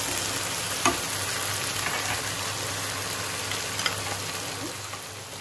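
Masala for egg korma sautés in a pan with a steady, close sizzle and crackle, broken by a few faint scrapes of stirring, with no voices.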